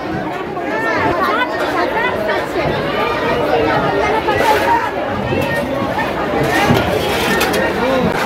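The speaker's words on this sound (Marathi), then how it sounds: "कसली गर्दी आहे बघा." Dense crowd chatter fills the Naigaon wholesale fish market during a fish auction, many overlapping voices forming a loud, continuous hubbub close around the listener.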